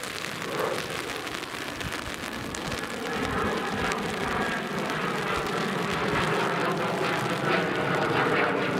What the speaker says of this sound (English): See if this citation gets out and makes a left or right early turn.